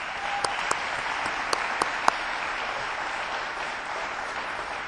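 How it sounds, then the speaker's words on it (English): A crowd in a high school gym applauds at an athletics hall of fame induction, with steady, even clapping throughout and a few sharp, louder claps standing out near the start. "If you join me in a round of applause for those individuals"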